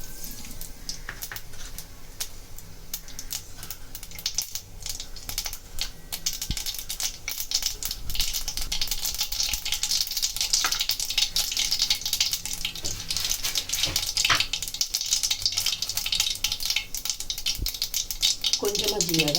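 A continuous crackling sizzle of mustard seeds spluttering in hot oil for tempering, with rapid irregular pops building in intensity, and a voice speaking over it.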